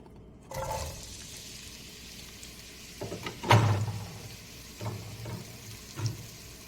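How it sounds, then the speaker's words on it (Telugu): Onion and green chilies hit hot oil and sizzle in bursts: a quiet start, then a sharp loud hiss as they go in, followed by softer stirring crackles and a low background hum. "నూనె కాగిందండి ఇప్పుడు ఉల్లిపాయ పచ్చిమిరపకాయ వేద్దాము"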